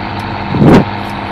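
Tractor engine running close by, a steady low idling hum that swells into a short, louder surge midway before settling back to an even drone.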